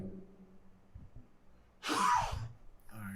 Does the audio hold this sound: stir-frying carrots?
no